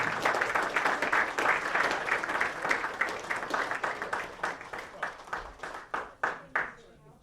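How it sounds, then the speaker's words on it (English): A crowd at an awards dinner applauds the award-winning clubs, a dense roar of clapping that gradually tapers into a few separate, spaced claps before fading out. "Please give a big round of applause to all the clubs who achieved their distinguished award."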